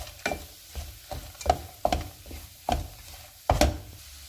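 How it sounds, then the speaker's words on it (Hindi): A spoon scrapes and knocks through thick fig halwa as almonds, pistachios and cardamom powder are mixed in, giving irregular dull strokes against the pan over faint background; no talking. "अब इसमें हम बादाम और पिस्ते डाल देते हैं, इलायची का पाउडर और इन्हें एक दफ़ा मिक्स कर लेंगे"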